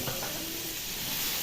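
Tomatoes hit a hot pan of chilies in a home kitchen, giving a steady, even sizzling hiss that holds without a break for the whole moment.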